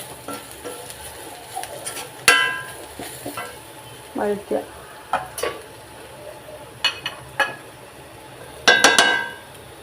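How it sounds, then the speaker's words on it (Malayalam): Squid being sautéed with spices in a pan for a Kerala-style kanava thoran, quiet sizzling with intermittent scraping and clinking of a spoon stirring against the pan, close and soft. "എന്നിട്ട് ഇത് നല്ലപോലെ വഴറ്റുക."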